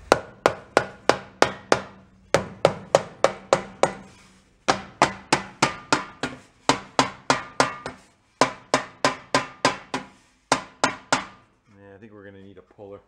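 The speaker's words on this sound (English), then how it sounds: "Let's give her a couple of whacks with a soft mallet." A soft mallet strikes a part of a 1937 Waterwitch boat motor in quick runs of four to six sharp, close knocks separated by short pauses, followed by a brief scraping rattle.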